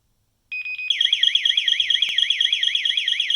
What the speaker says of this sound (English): If an invalid access method is attempted 5 consecutive times, the access control alarm will trigger.